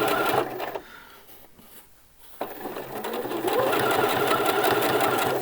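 A sewing machine hems T-shirt sleeves with a steady, close mechanical whir, pausing briefly and then running again continuously.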